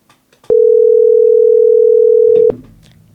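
A telephone dial tone sounds while a call is being placed: one loud, steady pure tone lasting about two seconds. Brief clicks mark its start and end.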